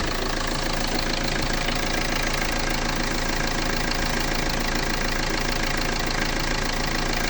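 An HDI diesel car engine idling, close and loud, with a steady clattering knock that keeps going without a break and no voices over it.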